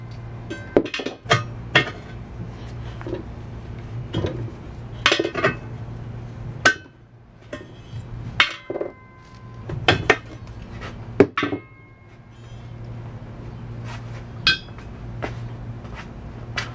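Pliers pry lead wheel weights off original steel rims from a 1969 VW Beetle, giving irregular bursts of close metallic clinks, taps and scrapes separated by short pauses, with no talking.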